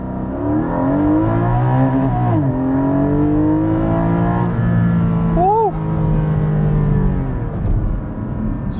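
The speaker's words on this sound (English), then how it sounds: "The engine sound is remarkable." A car engine revs and whirs up and down, loud and close, with rising and falling pitch sweeps over a steady drone.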